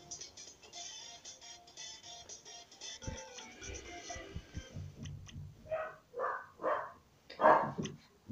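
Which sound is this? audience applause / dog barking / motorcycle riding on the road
dog barking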